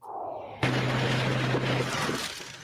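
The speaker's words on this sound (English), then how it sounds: "The sight and sound of popping tires, twisting metal, and cracking glass" Police crushing illegal mopeds and scooters: a sudden loud crunch of shattering glass and twisting metal, with a sustained low grinding hum of the crusher under continuous breaking noise, fairly close.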